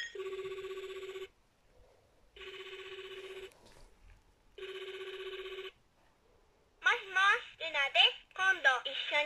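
A Sailor Luna toy cell phone (Lunatia L) from Pretty Guardian Sailor Moon rings three times with an electronic tone, regular bursts separated by pauses, followed by a bright recorded character voice speaking.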